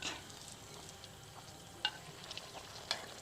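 Malpuri batter frying in an iron pan, a soft steady sizzle broken by a couple of sharp scraping clicks.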